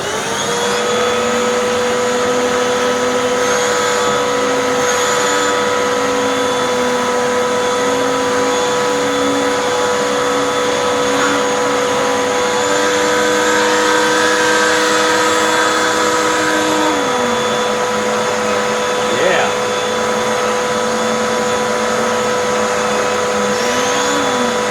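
Hoover or Dyson vacuum with a hand turbo tool spinning on a cushion, a loud steady motor whine with whistling tones that shift slightly in pitch as the brush barely slows, continuous throughout.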